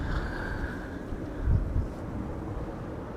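Strong wind of 20-plus knots roars steadily across an open microphone at Amsterdam Schiphol Airport, a constant low rumble with a brief heavier gust swelling in the middle.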